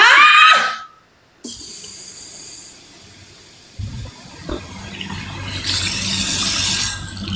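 Water pours out in a steady, loud hissing stream, like a tap running or a container being emptied, continuing for several seconds with no speech.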